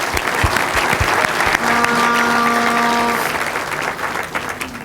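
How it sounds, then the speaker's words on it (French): Loud, dense applause for the Senegalese U20 football team fills the room, with scattered claps and a brief tonal whistle-like tone in the middle, fading slightly toward the end. "Ils méritent tous nos applaudissements."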